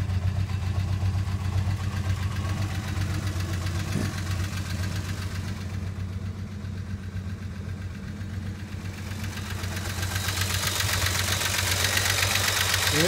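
A Mopar car engine idles on a chilly morning just after start-up, a steady, loud low rumble with a slight knock that holds evenly throughout.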